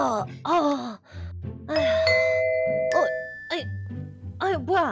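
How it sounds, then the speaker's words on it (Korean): A doorbell rings with a bright ding-dong tone in a Minecraft family roleplay scene, sounding clearly in the middle of the clip while voices talk before and after it. "뭐야, 초인종 소리."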